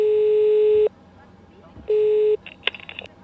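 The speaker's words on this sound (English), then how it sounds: "It's basically a summon attendant, and it starts the intercom ringing in the back" Flight attendant call intercom ringing in an ATR 42/72 cockpit flight simulator, two steady electronic ring tones about a second each separated by a pause, followed by brief clicks and beeps.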